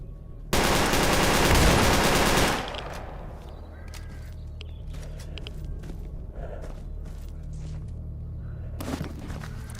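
Dense burst of automatic gunfire from a firefight in the game Stalker Anomaly, loud and close for about two seconds, followed by a quieter ambient stretch with scattered faint pops and a brief final crack.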